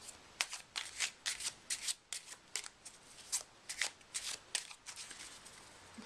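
A deck of playing cards is shuffled for a magic trick, giving a rapid run of crisp, close riffles and flutters in quick bursts, quiet and without speech.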